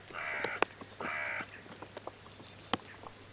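Two harsh, drawn-out caws from a hooded crow, followed by scattered sharp clicks and taps in an otherwise quiet outdoor setting.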